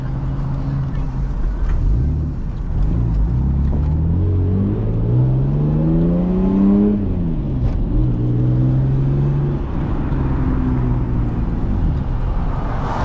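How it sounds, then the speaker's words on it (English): A manual SC300's engine drones loudly as it accelerates and shifts, with a low grinding strain from its welded differential rising in pitch under the rumble of the road. "That has to be the welded diff"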